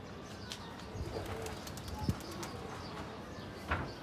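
A pigeon perched in a mango tree gives soft, faint coos and a brief flutter of wings against a steady outdoor background hiss, with no talking.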